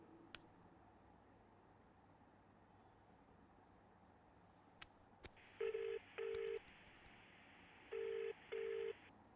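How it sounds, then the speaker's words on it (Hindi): A phone video call rings out in a quiet room as four short, evenly paired electronic tones, clear and close, following a few faint taps beforehand. "वीडियो कॉल करता हूँ।"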